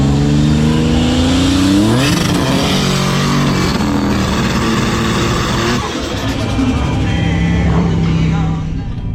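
Tesla drag racing against a Buick Grand National: a loud, close engine note rises sharply as a car accelerates hard, then a sustained roar of passing vehicles, with a rumbling, noisy track atmosphere throughout.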